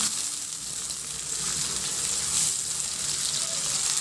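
Chopped tomatoes sizzle steadily in a hot pan while being stirred for a chicken feet dish, a close, continuous frying hiss with no talking.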